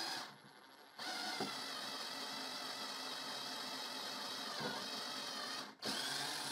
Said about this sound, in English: And I will also drive another screw there.